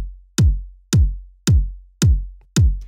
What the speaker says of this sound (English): I brought in a Fold and used the envelope follower just to add a bit of heat and grit to the transient of the kick drum.